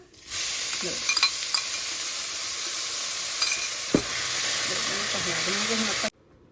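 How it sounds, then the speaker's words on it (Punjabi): Ground onion, garlic and ginger paste frying with cumin and asafoetida in a pan for palak paneer, a loud continuous hiss with occasional spatula scrapes, cutting off abruptly at the end. "ਲਓ ਜੀ ਆਪਣੇ ਪਿਆਜ਼ ਭੁੱਜ ਚੁੱਕੇ ਨੇ"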